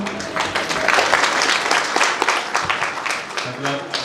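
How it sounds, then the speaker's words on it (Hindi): Audience at a satsang clapping in a dense burst of many hands, with some talking mixed underneath the applause. "मतलब जितने लोगों ने ताली बजाए हैं वो सब जाएंगे"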